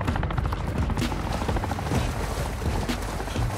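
A helicopter arrives in the Call of Duty Warzone 2.0 video game, its rotor chopping steadily among other game sounds at a constant level, with no speech.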